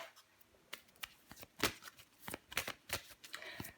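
Tarot cards are shuffled by hand in a quick, continuous series of papery riffles and flicks, close and quiet, with no voice over them.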